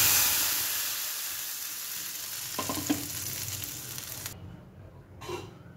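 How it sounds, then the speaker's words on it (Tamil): Mustard seeds tempering in hot oil for a South Indian pitlai and cluster beans curry, a steady close sizzle and frying hiss that fades, then a few sharp splutters and pops near the end. "இப்போது கடுகு தொலைச்சி கொட்டிக்கலாம்."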